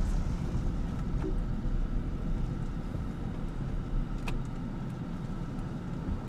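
A car pulling away in heavy rain in Galle, Sri Lanka, with steady engine rumble and road noise under a constant wash of rain, loud and unbroken throughout.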